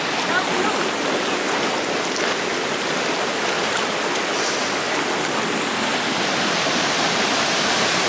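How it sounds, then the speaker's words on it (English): Peguche Falls in Ecuador roars continuously nearby, a dense, steady rush of falling water filling the whole clip. "There you can see where the start of all the water is running down."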